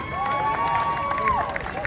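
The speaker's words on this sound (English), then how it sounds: "Let's cheer for this living banner that is gathered." A crowd cheering and whistling at a March for Life rally in New York, a broad roar with a shrill whistle carrying over it, fairly close and loud.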